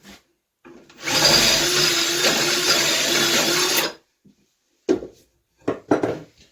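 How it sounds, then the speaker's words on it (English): A drill bores out a hole in wood for a homemade pike-aroon firewood tool, giving a loud, steady grinding whir of about three seconds that then cuts off, followed by a few sharp knocks and clatters. "might have to bore it out just a hair yet"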